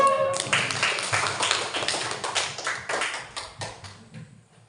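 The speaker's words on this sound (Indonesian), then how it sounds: "Oke, tepuk tangan dulu." Classroom applause for a student, a dense burst of many hands clapping together that starts loud and gradually thins out and fades over a few seconds.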